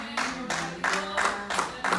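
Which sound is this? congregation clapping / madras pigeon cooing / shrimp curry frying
congregation clapping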